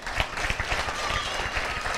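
A lecture-hall audience at a Tamil speech applauds, a steady wash of many hands clapping with individual claps audible in the mix, with faint voices underneath.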